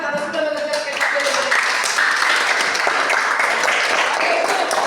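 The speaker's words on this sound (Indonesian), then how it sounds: "coba tepuk tangan karena sudah mengerjakan PPT" Students in a classroom clap together after finishing a PowerPoint task, a brisk burst of close applause following a short spoken instruction, with chatter mixed in.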